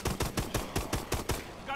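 Rapid bursts of gunfire from a weapon in Advanced Warfare's Havoc ExoZombies mode, about eight evenly spaced loud shots over less than two seconds, ending with a short mechanical rattle.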